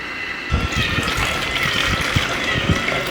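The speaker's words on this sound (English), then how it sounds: "Pour in some distilled water for it to rinse." Distilled water pours steadily into a film developing tank for the rinse, a continuous close gushing and splashing with small gurgles and knocks throughout.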